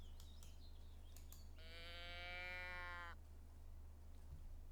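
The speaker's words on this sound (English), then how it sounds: "Dying cow." A dying-cow lure call in a hunting video game, one long, drawn-out, wavering moo over a steady low hum and faint outdoor ambience.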